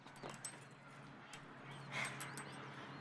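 A puppy whimpers and yips softly, faint and intermittent, over a quiet room tone in an indoor scene from a 1980s TV drama.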